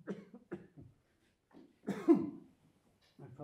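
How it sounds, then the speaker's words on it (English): Several hoarse coughs from one person, a short burst at first and a heavier, rasping cough midway, close up with brief pauses between. "this cough is still troublesome"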